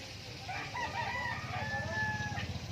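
A rooster crows at a moderate distance, a drawn-out call over a backdrop of clucking hens and low farmyard noise.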